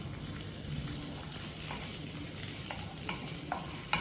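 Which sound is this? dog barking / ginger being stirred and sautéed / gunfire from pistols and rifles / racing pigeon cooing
ginger being stirred and sautéed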